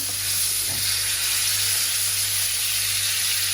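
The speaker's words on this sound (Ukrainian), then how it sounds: "Нам треба, щоб вони обсмажилися в маслі." Overripe peaches frying in butter in a pan give a steady, even hiss and sizzle close up, with no voices over it.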